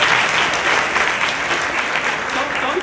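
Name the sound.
audience applause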